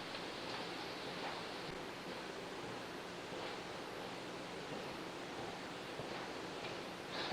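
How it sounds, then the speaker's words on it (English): Water pours steadily into a jug for mixing a half-and-half batch, a continuous rushing, splashing wash that stays even and moderately loud throughout, with no talking. "Alright, now I'm going to go fill this up halfway with water"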